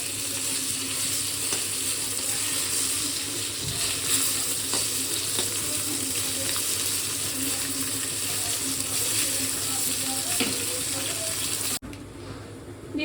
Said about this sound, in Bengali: মাছগুলোকে ভেজে নিচ্ছি ভালো করে